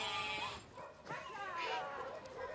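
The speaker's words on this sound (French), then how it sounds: "ces moutons profitent d'herbages étonnamment riches et réveillent les quartiers" Sheep bleat in a city neighborhood among apartment blocks, a few wavering calls under a faint outdoor background with voices.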